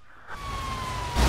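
Ambulance siren in the Grand Theft Auto Online video game, a steady wailing electronic tone heard briefly at moderate distance under engine rumble, with no talking.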